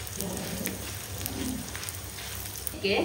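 Coriander seeds, cumin, fenugreek and black pepper frying in a pan, a steady fine crackle and sizzle at a modest level, with a brief clatter near the end.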